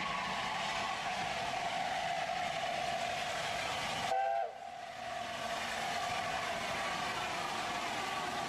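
A preserved London and North Eastern Railway steam locomotive runs in a steady, loud roar, with a brief whistle-like tone and a momentary drop near the middle before the rumble resumes.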